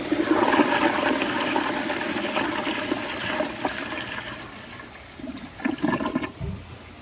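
A Kohler Kingston wall-mount toilet flushes with a loud, steady rush of water that gradually fades, followed by gurgling and refill splashes near the end, heard close up with no talking.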